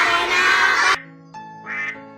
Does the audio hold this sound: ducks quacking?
yes